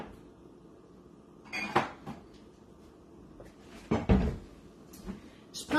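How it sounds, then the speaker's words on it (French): A kitchen cupboard is opened and a microwave-safe bowl is taken out, making a few light wooden knocks and clinks of the dish spread over several seconds, close by and fairly quiet. "je prends un bol qui va aller au micro-ondes"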